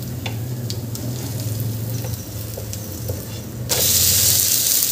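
Raw papaya thalipeeth flatbread fries in oil on a hot pan. A steady close sizzle runs throughout, with light scrapes, and then a sudden louder hiss near the end as the flatbread is flipped onto its other side.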